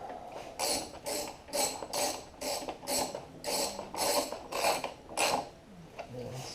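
Ratchet wrench tightening carburetor bolts on a Honda lawn mower, about a dozen evenly spaced clicking strokes, close and fairly quiet, no talking.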